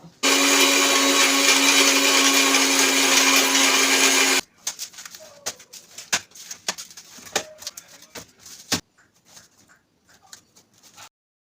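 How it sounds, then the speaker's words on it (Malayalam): An electric blender runs loud and steady for about four seconds, whirring raw green mango into juice, then cuts out, leaving scattered clinks and light kitchen knocks. "ജ്യൂസ് അടിച്ചു വെക്കാം അന്ന് പച്ചമാവ് കൊണ്ട് ജ്യൂസ് അടിക്കാം"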